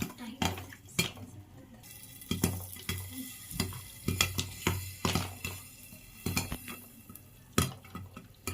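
A spoon stirs popcorn in a pot, knocking and scraping against the metal in irregular bursts over a faint frying hiss.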